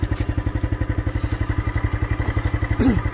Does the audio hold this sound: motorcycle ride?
yes